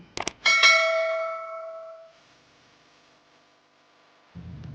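A bright bell chime rings out after a couple of quick clicks, its tone ringing and slowly fading, followed by quiet and a low rumble at the end.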